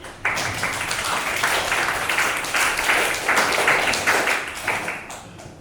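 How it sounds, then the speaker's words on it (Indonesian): A classroom audience claps together after a student's presentation, a dense patter of hand claps running steadily for about five seconds before tapering off. "Jadi kasih tepuk tangan buat"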